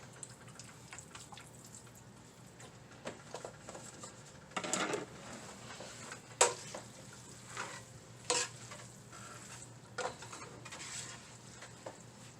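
Pancit noodles with vegetables and soy sauce are stir-fried in a pan, a soft low sizzle broken by intermittent spatula scrapes and clatters at irregular intervals, fairly quiet overall.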